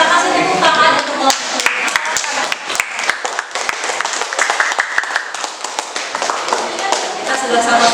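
Classroom audience clapping hands after group presentations, a steady, moderately loud patter of claps with sharp individual hits standing out, continuing throughout with faint voices underneath.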